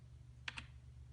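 Two quick keystrokes on a computer keyboard while typing an equation, soft clicks close together over a low background hum.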